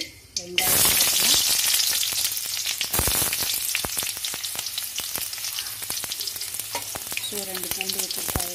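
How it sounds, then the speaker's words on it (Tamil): Mustard seeds splutter and pop in hot oil in a pan on the way to a country-chicken fry, with a loud, dense sizzle and rapid crackles that continue steadily throughout. "ஸோ கடுகு பொரிய ஆரம்பிச்சிருச்சு"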